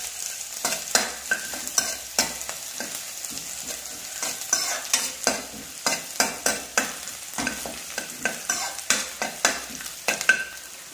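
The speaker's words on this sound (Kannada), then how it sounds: "ಇದನ್ನು ಚೆನ್ನಾಗಿ ಫ್ರೈ ಮಾಡಿ. ಈರುಳ್ಳಿ ಕೆಂಪಾಗಬಾರದು, ಸ್ವಲ್ಪ ಟ್ರಾನ್ಸ್ಪರೆಂಟ್ ಆದರೆ ಸಾಕು." Chopped onion frying in a pan, a constant close sizzle with rapid, regular spatula scrapes and clacks nearly every half second, and no one speaking.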